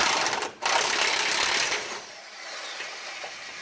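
An electric impact wrench breaks loose rusty bolts, its dense mechanical rattling loud and close, with a brief dip before the buzzing hammering resumes and then eases.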